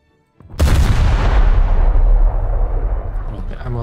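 A warship's ammunition elevator detonates in a naval combat video game, a sudden heavy boom that rolls into a long, loud rumbling roar which slowly fades.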